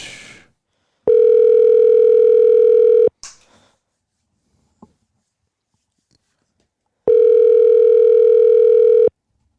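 A telephone handset sounds two long, loud, steady ring-back tones while a call is being placed, each lasting about two seconds and separated by a longer silence, with faint handling noise between them and no talk.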